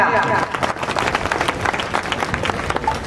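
An audience claps loudly and steadily to welcome a teacher onto the stage at a school academy's grand opening event. The applause is dense and continuous, with crowd noise and some voices mixed in.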